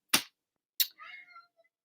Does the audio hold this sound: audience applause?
no